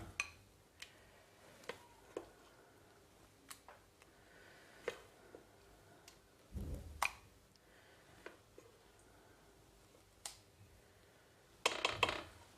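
Vegetable soup being dished up into a bowl: soft scattered clinks and taps of a ladle or spoon against crockery, faint and close in a quiet kitchen, with a slightly louder clattering burst near the end.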